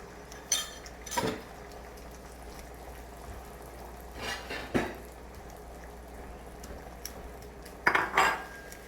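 Eggs being scrambled in a pan over medium heat for hibachi-style fried rice, with a spatula scraping and clinking against the pan in a few scattered bursts over a low steady background, no talking.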